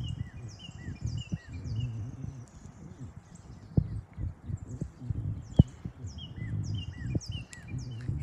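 Birds chirp and sing outdoors on a calm day near water, repeated short high calls scattered across the clip over low background rumble, with a few sharp knocks and thumps mixed in.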